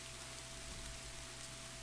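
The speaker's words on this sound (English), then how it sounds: "how are we with just the rain for the background noise for reading?" Steady rain plays as continuous background noise, a soft, even hiss with a faint low hum, quiet and without voices.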